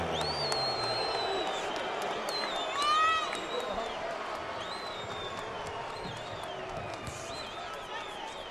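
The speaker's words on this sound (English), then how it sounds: "How about a round of applause for the young man from Sydney, Australia?" Boxing arena crowd applauding a unanimous-decision winner, a broad steady wash of clapping and cheering with a brief swell in the middle, under an announcer's voice.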